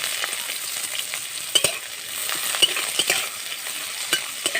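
A large chopped onion fries in hot oil with dried red chilli, a steady crackling sizzle close by, punctuated by scraping stirs of a spatula against the pan.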